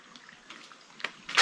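Water falling inside a cave, a soft continuous trickle and splash with sharper bursts of gushing water toward the end.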